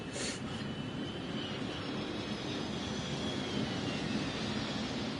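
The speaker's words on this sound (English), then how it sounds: "Sounds like a jet plane there." A jet plane passes overhead in the video game Hidden Agenda, a steady broad roar with a gradually shifting whine, moderately loud and continuous, with no voices.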